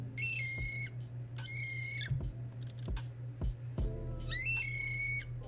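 A flightless bird gives three rising, warbling, whistle-like calls, each about a second long with a pause between, up close over a steady low hum and a few sharp taps.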